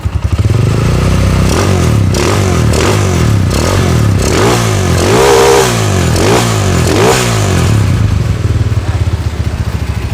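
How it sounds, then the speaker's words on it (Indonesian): A bored-up 250cc motorcycle engine, built for drag and road racing, revs hard close by in a string of rising and falling throttle blips over a loud, steady rumble. "Untuk suara mesin ini amat sangat halus."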